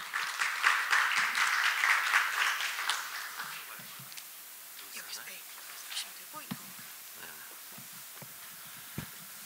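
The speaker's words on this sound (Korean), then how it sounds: "큰 박수로 맞이해 주시면 감사드리겠습니다" Applause at a Korean academic seminar on traditional martial arts welcomes a presenter to the podium. It is fairly loud for the first few seconds, then thins out into scattered claps and room noise.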